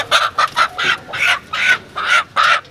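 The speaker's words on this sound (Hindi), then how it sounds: "देसी मुर्गी है भाई काशी?" A desi hen clucks in a series of about seven loud, close bursts with short pauses between them, and no talk over it.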